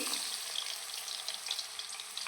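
Potato pieces frying in hot oil give a steady, soft hiss with small crackling pops throughout, close and fairly quiet, with no voices over it.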